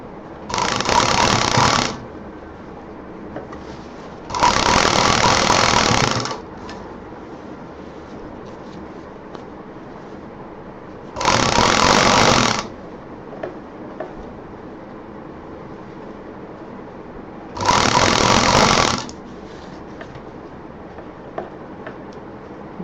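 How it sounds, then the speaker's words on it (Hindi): A sewing machine stitches the side seams of a fabric college bag in four distinct bursts of close, steady mechanical whirring, separated by pauses with only quiet handling noise. "ऐसे घुमाते जाएं, सिलते जाएं।"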